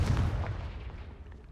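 Confringo blast spell exploding in Hogwarts Legacy, a single sharp, heavy boom at the start that rumbles and decays over about a second and a half.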